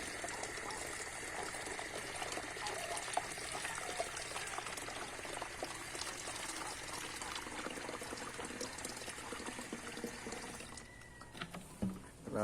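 Water pours steadily into a chicken drinker, a continuous gushing fill lasting several seconds before tapering into a few scattered drips and knocks near the end, close and fairly quiet.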